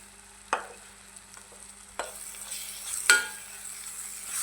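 A spoon stirring curry leaf pickle in a pan: three distinct scraping strokes at even intervals over a faint background sizzle, close and moderately loud, with no talking.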